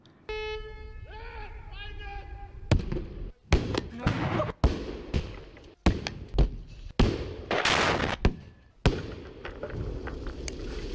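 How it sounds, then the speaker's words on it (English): Explosions set off outdoors in the countryside, a run of loud sharp blasts and bangs in quick irregular succession, each ringing out with a short echoing tail, preceded by a brief whistling, rising tone. "this next part is a little bit loud, but my dad really loves to blow stuff up"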